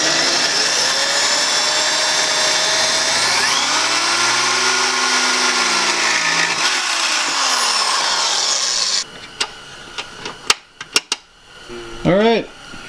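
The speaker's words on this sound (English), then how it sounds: "then we're going to drill the holes and get the thing attached up" A power drill whines loudly and steadily as it bores holes in a metal bracket, its pitch shifting, then cuts off, followed by a few sharp clicks and short bursts of drilling.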